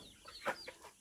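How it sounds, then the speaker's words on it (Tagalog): A native farm chicken inside a laying coop gives a single short cluck, faint and close, with quiet surroundings. "may manok din dito sa loob. Nangingitlog."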